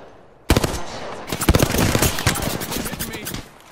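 Shotgun fire in the video game Apex Legends: a sharp blast sets off a dense run of rapid, loud gunshots that continues to the end without a break.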